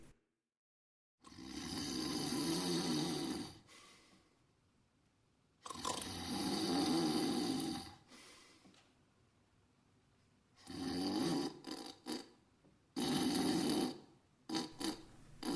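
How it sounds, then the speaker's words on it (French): A man snores loudly in long, rough breaths, four drawn-out snores separated by quiet pauses, with a few shorter choppy snorts near the end, close and alone. "Sophios posa alors ses pieds sur la table et se mit à ronfler."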